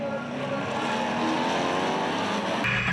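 NASCAR Whelen Euro Series stock cars racing at Monza in tricky conditions, a loud sustained engine roar held throughout as cars pass close by, ending with a sharp change as the sound cuts away.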